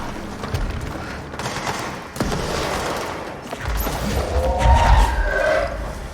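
Enemy gunfire in the video game Control, bursts of rapid shots and heavy booms mixed with blasts and rumbling, loud and chaotic throughout.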